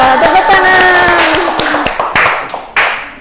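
A classroom group gives a short burst of clapping, loud and close at first, then thinning into scattered claps over about three seconds, with voices mixed in among the clapping.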